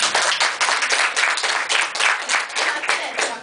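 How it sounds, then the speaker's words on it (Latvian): A studio audience applauds, dense steady clapping from many hands that stays loud and close throughout, with no speech over it. "aplaus Luīzei."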